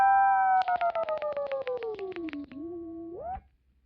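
Electric guitar held on a long note while the whammy bar is pulled down, its pitch sliding lower as a kill switch chops it into a rapid rhythmic stutter of about a dozen cuts, then a quick upward swoop before it stops.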